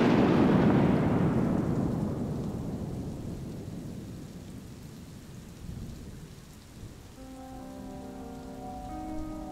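Heavy rain pouring in a thunderstorm at night, a loud rumble of thunder fading into steady rainfall, with a soft musical tone entering near the end.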